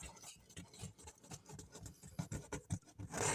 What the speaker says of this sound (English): Burnish it down real well.